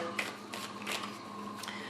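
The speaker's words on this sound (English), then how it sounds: "I'm going to keep shuffling like so" Tarot cards are shuffled by hand during a horoscope reading, producing soft, repeated riffling bursts at a close distance against a quiet background, with no talking.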